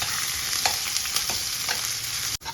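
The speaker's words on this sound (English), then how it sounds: "Add the finely chopped ginger and cook it for a minute." Finely chopped ginger and cumin cooking in a pan, a loud close sizzle with quick stirring scrapes, ending in a brief clatter.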